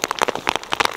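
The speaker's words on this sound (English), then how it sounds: "it's raining. And it's been raining for about a week" Steady rain falls outdoors at higher elevation in the woods, a dense patter of many small drops close by with no voices.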